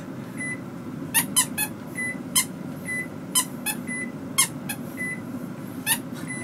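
A microwave oven beeps as its buttons are pressed: about a dozen short, high electronic beeps in an irregular rhythm, close and clear over a quiet background hum.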